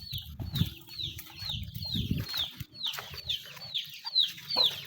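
Chickens cluck and chirp repeatedly in a rural outdoor setting, the calls close and fairly loud, with low rustling and handling noise underneath.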